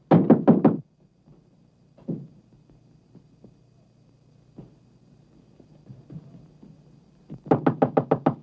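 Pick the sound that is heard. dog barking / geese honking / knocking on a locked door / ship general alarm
knocking on a locked door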